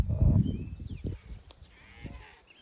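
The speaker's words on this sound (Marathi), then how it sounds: "भाताच्या रानात बकरी बसवी त्याला पहिल्यांदाच बघितलं बघा" A goat penned inside a netted enclosure in a growing rice paddy gives a loud, close bleat at the start, followed by fainter bleats and rustling.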